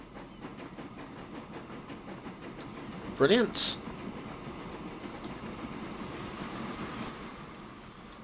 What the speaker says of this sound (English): as you can see, the train is already leaving the